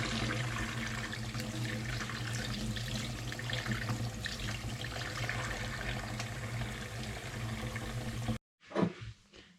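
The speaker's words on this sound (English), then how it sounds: "put the flowers in a sieve to give them a good wash" Dandelion flowers being rinsed in a sieve under running water: a steady, fairly loud splashing stream for several seconds, then the flow stops abruptly and a few brief handling noises follow.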